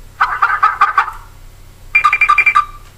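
A chicken clucks in two short rapid bursts, close and fairly loud, separated by a brief pause, with no talking.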